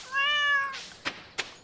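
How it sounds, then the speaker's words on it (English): Cat in the video game Stardew Valley gives one clear, close, rising-falling meow, followed by two short soft puffs of noise, with no talking. "Hey, cat."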